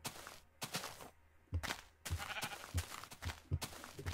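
A brown sheep in the Minecraft video game gives several short bleats in a row, with irregular gaps and no talking.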